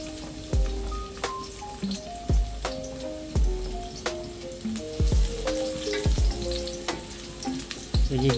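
Garlic sautéing in a pan, a steady crackling sizzle with sharp spatters and periodic knocks of a utensil stirring against the pan, close and clear with a faint tonal background.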